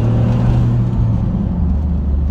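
Smart Fortwo Brabus engine pulling hard at full throttle, a loud, steady, close-up rumble and drone that holds strong throughout with no voices over it.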